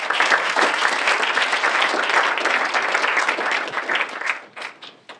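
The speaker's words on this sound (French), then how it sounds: "On peut les applaudir." An audience applauds at a cinema press conference at the Grand Action for a film club event, dense steady clapping from many hands filling the room, then thinning out into a few scattered final claps.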